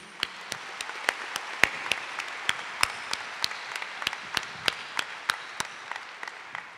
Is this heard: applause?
yes